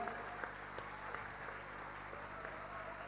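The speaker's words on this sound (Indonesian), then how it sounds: "Beri tepuk tangan kepada mereka ini." A graduation audience in Surabaya applauds the teachers, a steady patter of many hands clapping at moderate, even loudness through the short stretch.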